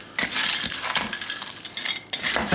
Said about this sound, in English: So now what we're going to do is stir it up a little bit